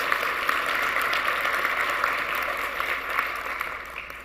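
Steady audience applause fills a conference hall, a dense, even wash of clapping from a large crowd that fades slightly toward the end.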